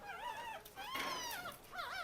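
A puppy whimpers and whines in rising and falling high cries, faint but continuous over a soft background hiss, with no talk.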